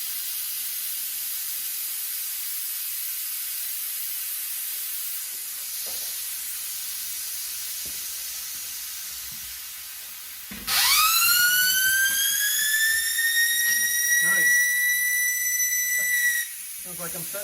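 Air rushes out of a 1954 Chevy truck tire through the valve stem with its core removed, a loud, steady hiss with a shrill whistling tone that starts abruptly and runs about six seconds before cutting off; a voice speaks briefly.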